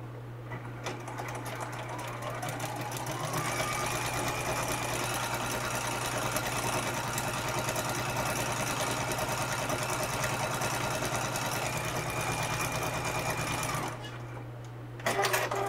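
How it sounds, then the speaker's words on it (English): Sewing machine stitching a seam on a quilt, a steady continuous mechanical whir running for roughly thirteen seconds before stopping, followed by a brief clatter, close and fairly loud with no talk. "So we're going to go ahead and sew this seam."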